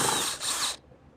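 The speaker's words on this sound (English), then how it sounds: "I'm going to actually use my cordless drill here with a Phillips head." A cordless drill driving Phillips screws on a Hayward Navigator pool vacuum whirs at high speed for under a second, then cuts off abruptly, leaving near silence.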